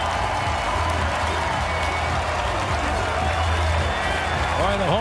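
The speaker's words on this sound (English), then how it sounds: "the home crowd needed that, and it's a good crowd" The home crowd at BC Place Stadium roars for a BC Lions touchdown against the Winnipeg Blue Bombers in a CFL game. The loud cheering and applause go on without a break while a commentator speaks over it.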